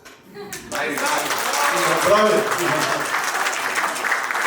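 Guests at a 50th birthday celebration break into sustained, dense applause that swells quickly and continues steadily, with voices mixed in.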